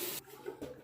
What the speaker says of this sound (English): I'm going to just run the tap over this to rinse it